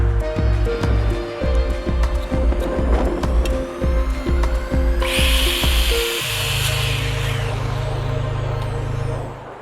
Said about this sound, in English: So I'm relegated to using the skill saw for these cuts.